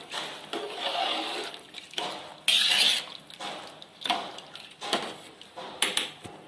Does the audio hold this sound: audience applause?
no